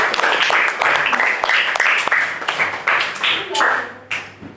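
A classroom of students claps for a student group, a dense burst of overlapping hand claps that tapers off, with voices mixed in.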